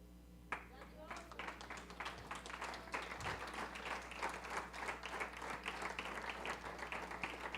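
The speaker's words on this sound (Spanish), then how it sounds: "Sí, usted aplaude por eso." A church congregation breaks into applause, a fairly quiet but continuous patter of many hands clapping, with a low steady hum underneath.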